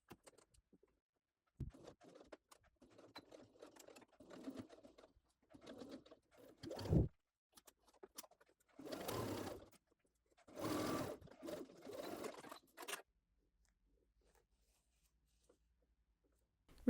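A sewing machine backstitches at the center front of a frock seam, a few separate short whirring runs of stitching broken by quiet pauses and small handling clicks, close and fairly faint.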